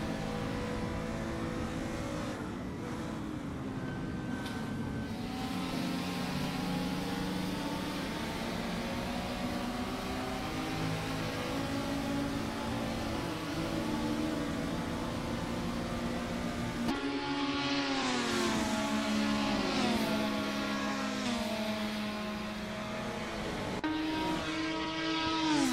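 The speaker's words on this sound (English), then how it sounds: "Wow, this fuzzy Mazda is really fast." Mazda race car at Watkins Glen in an IMSA shakedown, engine note climbing steadily through the gears with loud sustained howl, a brief shift break around the middle, then rising again close by.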